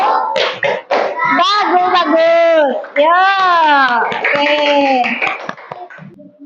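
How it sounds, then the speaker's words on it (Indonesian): Primary-school children in an Indonesian classroom chant the tepuk jempol thumb-clap rhythm together, loud and close, with sung voices and scattered light claps for about six seconds. "Kalau sudah kita berikan tepuk jempol."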